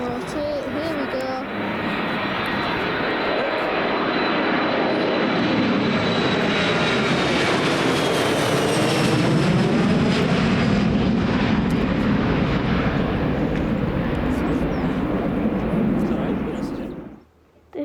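A Jet2 Boeing 737-300, about 26 years old, roars loudly and steadily through its takeoff roll and rotation, engine noise swelling and then cutting off near the end, with a person talking over it.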